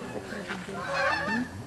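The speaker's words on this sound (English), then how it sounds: "Canada geese" Geese honk in a short burst of nasal calls, fairly close, with faint background noise.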